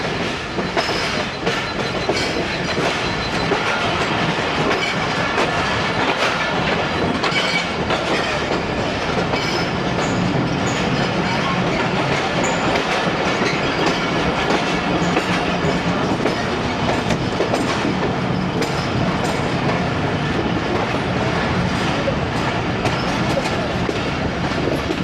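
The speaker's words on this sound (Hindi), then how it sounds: "जब ट्रेन एक पटरी से दूसरी पटरी पे आती है और हमारी कैरेजेस भी जो धम धम की आवाज़ें निकालती हैं" Inside a carriage of the Ghouri Express between Faisalabad and Lahore, the coaches rumble steadily and thump with rhythmic clickety-clack as the wheels cross track joints and switches, continuous and close.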